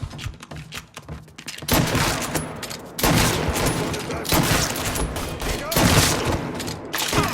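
Heavy gunfire rages in the video game Mafia III, a dense, continuous barrage of shots and booms in sustained bursts with brief lulls, loud and close throughout.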